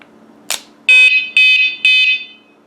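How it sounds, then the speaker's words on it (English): A bicycle anti-theft vibration alarm after a short click: three loud, shrill electronic beeps in a quick pulsing sequence, very close with no voices. "And here's the alarm."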